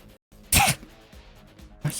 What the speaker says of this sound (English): I tried to sneeze and it just did not happen.